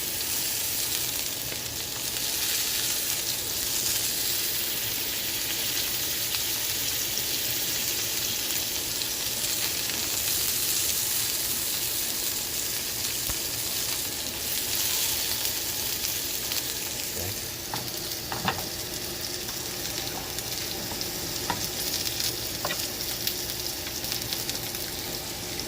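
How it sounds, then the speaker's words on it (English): Steak fat sizzles and spits in a cast iron pan as a continuous, close, crackling hiss, with occasional louder pops and faint stirring or scraping toward the end. "I'm going to let some of the fat cook off the edge into the pan."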